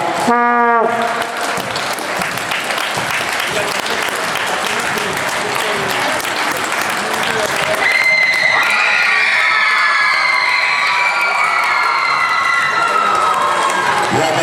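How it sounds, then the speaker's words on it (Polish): A sports-hall crowd cheers and applauds the MUKS WSG Supravis Bydgoszcz junior women's volleyball team at the U-18 Polish championship, with loud sustained clapping and shouting throughout, a brief voice at the start and high whistling or horn-like tones joining midway. "Brawa!"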